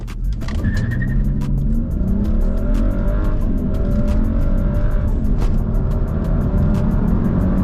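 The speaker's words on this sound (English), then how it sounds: "Traction control on. Not comfort mode, sport mode. Sport gearbox. Let's go 3, 2, 1." BMW ActiveHybrid 3 (F30) in sport mode with sport gearbox and traction control on, accelerating hard: a loud, steady engine roar with rising harmonics through the run, heard from inside the car with no talk.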